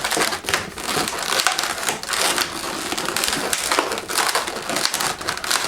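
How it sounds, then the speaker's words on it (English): A latex balloon is twisted by hand into the muzzle of a giraffe balloon animal, giving continuous close rubbery squeaks and crinkling rubs with no talk. "Twist this into the bottom set of the pinch twist there."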